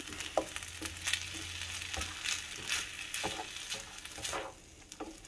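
Egg yolks being stirred into chicken fried rice in a pan, with a steady sizzle under repeated scraping strokes of a utensil, fairly close and moderately loud.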